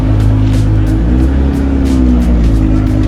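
A Subaru WRC rally car on racing tires drives past at a Cars & Coffee meet in Cypress, its engine a loud, steady drone filling the whole moment with no talk over it.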